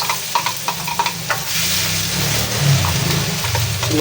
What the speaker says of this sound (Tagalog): ay dyan na po tayo magigisa. Lagyan na po natin yung ating bawang.